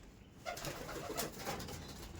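Andhra and Kalshira pigeons in a loft give soft, close cooing calls, several low throaty coos over a faint background.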